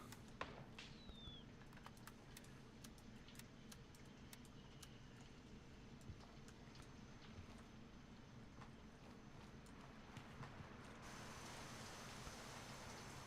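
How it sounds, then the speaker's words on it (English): Dynamic weather rain in the Gray Zone Warfare video game, a constant soft hiss of falling rain with scattered drop ticks, quiet and steady throughout, with no talking. "I will say I love the rain. They did a really good job with the dynamic weather."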